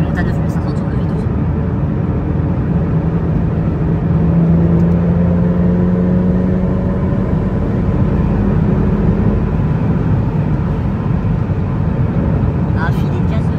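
A supercharged Lotus Evora S 350 accelerates hard on the autobahn. Loud, steady cabin engine drone rises in pitch as it pulls through the gears, with talking over the engine noise.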